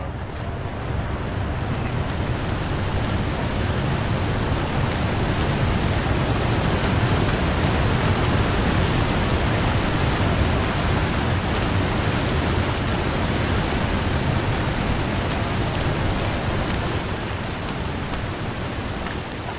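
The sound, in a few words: loud waterfall in the video game The Long Dark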